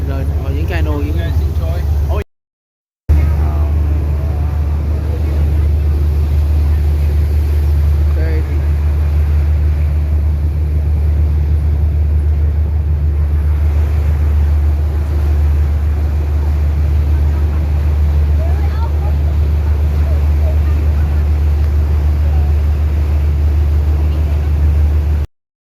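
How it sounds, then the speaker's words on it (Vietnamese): Motorboats on a Venice canal give a loud, continuous low engine rumble with a brief cut near the start, and faint voices sit in the background. "ta sẽ thấy được cảm giác đi tàu thuyền rồi những cano như thế này"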